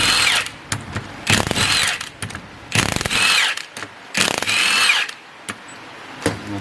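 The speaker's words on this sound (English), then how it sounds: "19-17 socket, 1/2 inch impact, and go at it one at a time until you get them off" A 1/2 inch impact wrench with a 19-17 socket rattles off differential bolts on a GT-R front diff, firing in several loud, close bursts of hammering whir separated by short pauses, with no talking.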